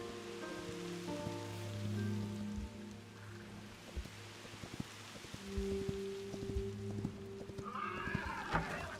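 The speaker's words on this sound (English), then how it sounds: "Horses are wandering off everywhere." Horses wander and neigh in Hytale, with soft hoof steps, a couple of whinnies and rain-like patter over a steady ambient background, and no talk.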